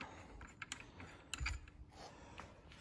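Wrench ratcheting out differential bolts on a Toyota JZX100, a few quiet clicking and clanking metallic sounds in short irregular bursts, close by.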